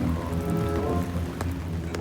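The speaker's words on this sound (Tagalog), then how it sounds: "Lakas ng buhos ng ulan" Heavy rain pours down steadily and loudly nearby, a dense continuous wash of drops drumming on surfaces with no voices over it.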